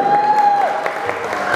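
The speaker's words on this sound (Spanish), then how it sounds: "Y para ella nuevamente el aplauso fuerte para Marisol." A crowd claps loudly for a birthday girl at a mariachi serenade in Bogotá, with dense, sustained applause and a sharp whistle at the start.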